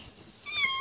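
A small kitten gives a single high, thin meow near the end, close and clear after a quiet moment with faint background noise.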